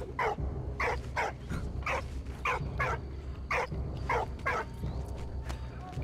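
Dog in the video game Valiant Hearts barking in a steady run of about a dozen sharp, evenly spaced barks, clear and close over a low background.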